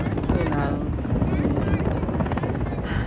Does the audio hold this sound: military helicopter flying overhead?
yes